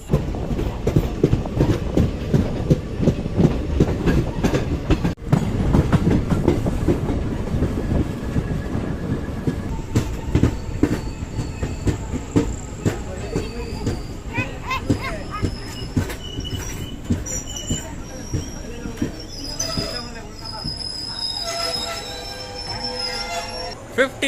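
The Nagaland Express sleeper train runs along the tracks between Dibrugarh and Guwahati in Assam with a steady rumble and rhythmic clatter, later joined by high metallic wheel squeals; the sound stays close and continuous.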